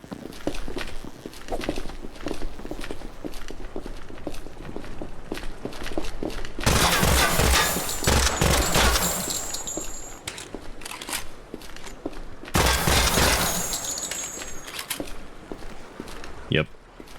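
Armor-piercing rounds fired in a shooter game, with two loud, dense bursts of shots standing out above a steady bed of game ambience and footsteps, while a voice talks throughout.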